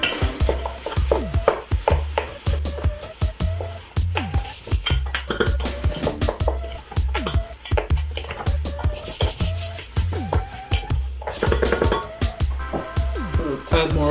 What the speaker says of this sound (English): Now we're gonna add our veal, pork, and beef ground meat.